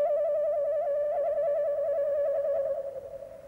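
A cartoon sea eagle gives a sustained, wavering call, a steady tonal cry with a slight warble, loud and close and alone, trailing off at the end.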